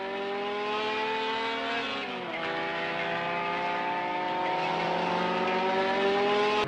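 Renault Alpine A210 race car with a Renault Gordini 1,300 cc engine making 130 horsepower, a loud sustained engine drone that rises in pitch, dips briefly as it shifts, then climbs steadily again, close and continuous.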